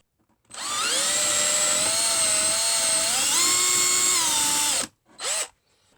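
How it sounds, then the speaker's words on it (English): A power drill boring holes for wiring on a model railway layout in a shed whines loudly and steadily for several seconds, its pitch rising partway through, then stops before a short second burst. "I'm very tempted to drill even bigger holes."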